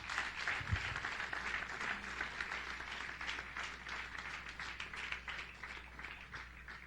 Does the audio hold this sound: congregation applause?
yes